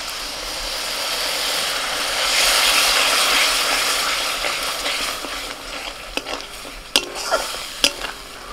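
Spice paste with poppy seed paste and melon seeds stir-fries in a pan, a steady sizzle with scraping strokes, followed by a few sharp clinks of the spatula against the pan near the end.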